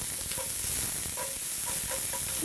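Chopped garlic and onion sweat gently in oil in a pot, a soft steady sizzle with faint stirring scrapes, close and quiet, no talking.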